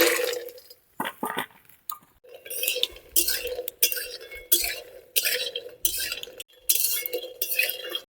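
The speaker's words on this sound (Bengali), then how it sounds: "তেল গরম হয়েছে, বড়িগুলো ভেজে নেব।" Lentil dumplings (bori) fry in hot oil in a kadai, with bursts of hissing sizzle alternating with metal spatula clinks and scrapes as they are stirred, close and fairly loud.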